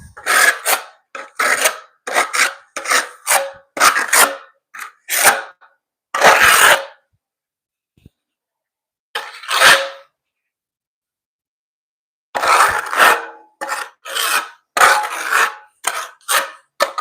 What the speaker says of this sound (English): I'm gonna back butter that piece